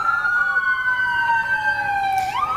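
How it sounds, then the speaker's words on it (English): Multiple emergency sirens, police and ambulance, wail and sweep continuously as they arrive at a shooting scene at Fort Stewart, loud and steady with a pitch glide near the end. "This is a very intense amount of sirens and police coverage"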